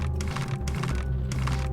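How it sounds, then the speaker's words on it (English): Rapid mouse clicks while playing the point-and-click adventure game Still Life, sounding as a dense run of sharp, close clicks over a steady low hum, with no talking. "I'm kind of just randomly clicking right now"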